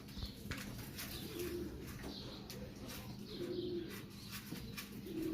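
Pigeons coo in a loft housing many chicks, among them a French pigeon with its hen, number three. Low, rolling coos repeat several times at a moderate level over a steady background hum, with faint chirps mixed in.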